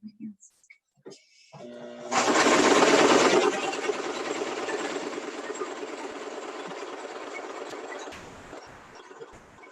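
A sewing machine stitches a fabric bowl cover in a steady, rapid mechanical whir that runs continuously for several seconds after a few brief clicks and soft handling sounds.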